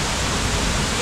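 A dense, steady roar of a waterfall in Dominica, loud and close, with no pauses or other sounds.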